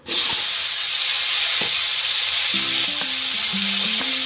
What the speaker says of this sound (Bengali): এই তেলে আমি আলুগুলোকেও ভেজে নেব।